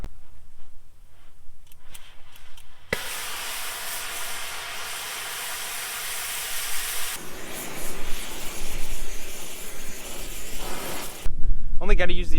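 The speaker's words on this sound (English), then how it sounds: "so I got the torch out. I'm gonna chop this down, chop up that other one." Acetylene torch cutting a metal auger holder: a loud, steady roaring hiss that starts abruptly, runs for several seconds and then shifts to a rougher, crackling blast, with a person talking at times.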